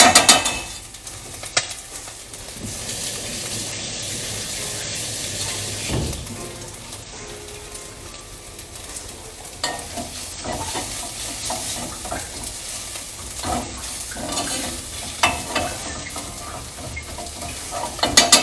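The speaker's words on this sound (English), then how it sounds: "So we're just gonna saute this up." Filling for stuffed Mexican peppers sautéing in a pan: continuous loud sizzle and frying crackle with occasional stirring and scraping, close and steady throughout.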